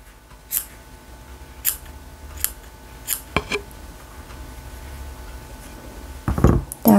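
Scissors snip the fuzzy pipe cleaner of a handmade Christmas dog doll keychain, trimming it like a grooming cut: several crisp, close snips spaced across the moment, with no talking.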